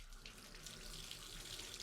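Steady running water pours from a tap, a continuous broadband hiss with no breaks, fairly close and with nothing else heard over it.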